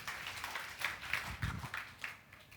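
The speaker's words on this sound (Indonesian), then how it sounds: "Berikan tepuk tangan buat Tuhan Yesus kita" Congregation applause during a Sunday church service, a faint, distant ripple of clapping with uneven swells throughout.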